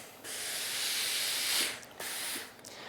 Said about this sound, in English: I'm going to give this some steam.